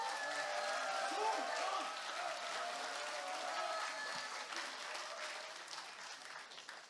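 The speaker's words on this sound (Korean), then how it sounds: "뜨거운 박수로 맞아주십시오." Warm applause from a political party audience during a speech rally, a broad, sustained wash of many hands clapping at a distance, even and unbroken, fading slightly toward the end.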